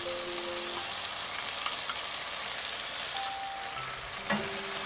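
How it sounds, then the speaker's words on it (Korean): Seasoning sauce for tofu gangjeong hits a hot pan and sizzles loudly and steadily, a close frying crackle with a small stir or clink near the end. "기름을 닦아준 후 양념장을 넣어줍니다."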